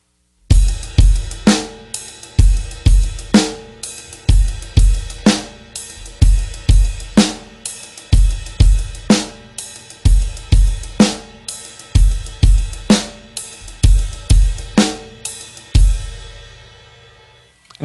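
A steady drum beat at an easy tempo repeats alone for many bars, with a punchy bass drum, sharp snare backbeats and a shimmering ride cymbal over the top, loud and close throughout.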